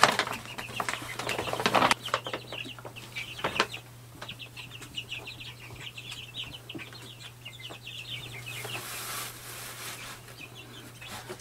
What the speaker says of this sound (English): we're gonna take a look at our meat birds